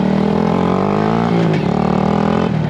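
A loud 2022 Honda Grom motorcycle with a new aftermarket exhaust runs close up, the exhaust rumbling steadily with brief revs and a couple of quick throttle blips.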